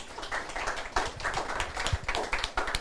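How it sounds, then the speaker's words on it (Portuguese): Audience applause for Dr Ary Ferreira da Cunha at a lecture at the Escola Superior de Biotecnologia: dense, steady clapping from many hands that fills the whole moment at a moderate level. "Queria dar uma salva de palmas para o Ari"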